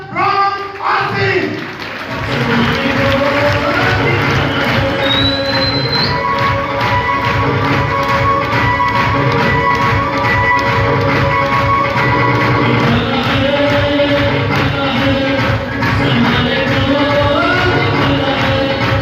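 A seminar audience claps loudly and continuously in a dense, sustained round of applause, rising quickly after a brief moment of talk at the start.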